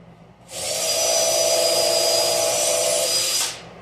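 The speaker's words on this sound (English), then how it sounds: "I'm going to go ahead and pre-drill that one." A power drill pre-drilling a hole in a wooden stair tread, one sustained high whine that starts abruptly, holds steady for about three seconds close by, then cuts off.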